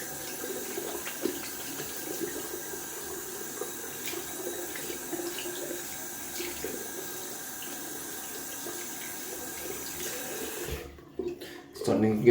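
Synthetic tuxedo shaving brush being rinsed under a running tap, a steady splashing water flow at close range that stops near the end, followed by a few handling knocks.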